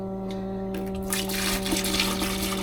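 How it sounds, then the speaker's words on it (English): Antifreeze poured from a gallon jug down the drain of a Casita camper being winterized, a steady liquid gush that grows fuller and louder as it flows, with no talking. "Pour it down in that drain."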